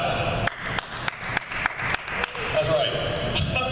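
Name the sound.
audience clapping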